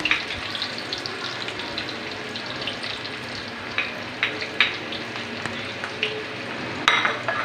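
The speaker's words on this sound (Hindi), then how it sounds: "मैं इसको प्याज को ब्राउन करूँगी।" Onions brown in a hot pan, giving a continuous loud sizzle and crackle with occasional sharper pops and stirring scrapes.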